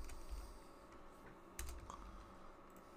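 Computer keyboard typing while working in an Excel spreadsheet, a soft continuous patter of keystrokes with a couple of sharper taps, close and quiet under faint room hiss.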